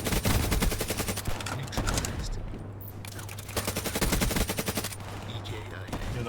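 Rapid automatic fire from the Peacekeeper MK2 in the video game Black Ops 3, with dense repeated bursts of shots over a steady game soundtrack hum, pausing briefly in the middle before firing resumes.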